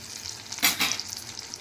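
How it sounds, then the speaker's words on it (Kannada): Tomato puree with spices simmering in oil over a low flame for dal makhani, a soft sizzle with a couple of brief louder bubbling spurts, close and quiet. "ಚೆನ್ನಾಗಿ ನೀರಿನ ಅಂಶ ಎಲ್ಲ ಹೋಗಿ ಎಣ್ಣೆ ಇದು ಬರೋ ತನಕ ಚೆನ್ನಾಗಿ ಇದನ್ನು ಲೋ ಫ್ಲೇಮಲ್ಲಿ ಕುದಿಸ್ಕೋಬೇಕು ನೋಡಿ."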